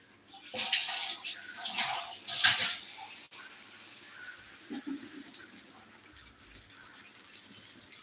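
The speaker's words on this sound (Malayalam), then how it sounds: "ഇനി നമുക്ക് അപ്പം വെള്ളം ഒഴിച്ചു കൊടുക്കാം" Water gushes and splashes steadily into a pot of tuna curry with chilli powder for a few seconds, then stops, leaving quiet clattering and faint room noise.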